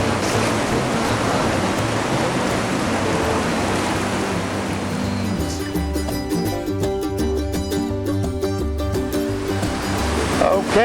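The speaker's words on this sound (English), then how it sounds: "the Coliseum of Carnage, Sweets Falls, a 14-foot waterfall right into this chundering hole" Whitewater rapids at Sweets Falls on the Upper Gauley, a 14-foot waterfall dropping into a churning hole, roar as a constant loud wash of water, with steady tonal noise mixed in during the second half.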